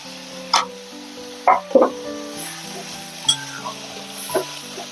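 Spice paste (masala) sizzling as it fries in a pan, with several sharp scraping stirs and clinks over a steady crackle, while background music plays.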